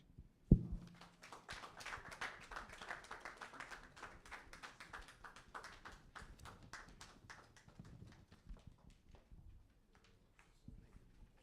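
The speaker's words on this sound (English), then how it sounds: "Another round of applause for Prof." Sparse, faint applause from an audience at a Highlife centenary launch event, a thin run of individual claps after a single sharp knock, fading away toward the end.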